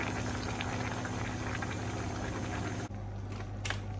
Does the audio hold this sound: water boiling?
yes